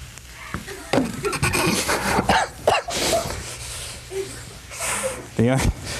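A few short, bursty coughs break through in a kitchen-like setting with a strong onion smell, with faint background noise between them.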